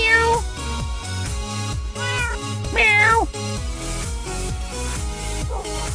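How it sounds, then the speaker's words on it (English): A cat in the video game Minecraft meows repeatedly, a series of clear, close meows in quick succession over an electronic tonal background, with no talking. "We got a kitty cat!"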